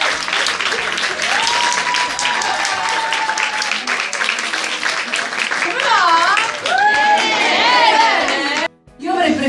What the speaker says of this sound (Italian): Accogliamola con un grande applauso.